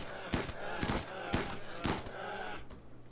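Gunfire in the RimWorld video game, heard as four sharp shots spaced roughly half a second apart over a steady background hum, loud and close.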